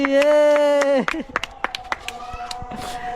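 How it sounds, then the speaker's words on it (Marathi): After a sustained tonal voice, a small group breaks into scattered, uneven claps for a girl who passed her exam with 93 percent, the sharp hand smacks mixed with talk. "एकदा जोरदार टाळ्या होत्या तिच्यासाठी"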